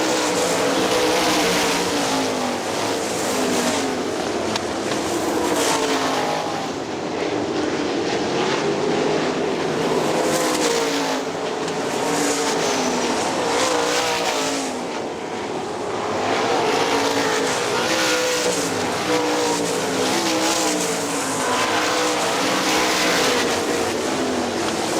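Outlaw sprint cars racing on a dirt oval at Hartford Speedway Park, a dense, continuous engine roar from a close pack running nose to tail that swells and recedes as the cars circle the track.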